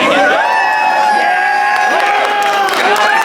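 Crowd of spectators at a Classic Tetris semi-final at the SoCal Gaming Expo, loud continuous cheering and whooping with sustained shouts rising and falling throughout.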